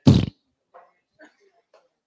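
A comedian vocally imitates a fart as a toot owl call, one short loud blurt followed by a few faint, scattered murmurs and small sounds.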